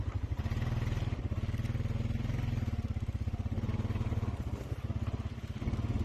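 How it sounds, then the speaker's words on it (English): A fuel-injected Honda Rancher 400 ATV engine runs steadily on a snowy off-road trail, a loud, continuous low throbbing drone with a fast regular pulse that holds for the whole stretch, with no talking. "And Vinny here is riding a Honda Rancher 400, I believe."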